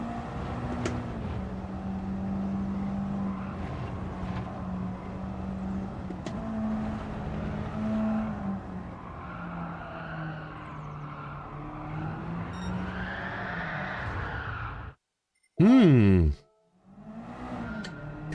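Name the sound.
race car driving in a racing video game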